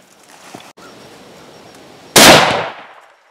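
A single loud rifle shot from a deer hunt outdoors, sharp and close, ringing out briefly after a quiet stretch of faint background noise.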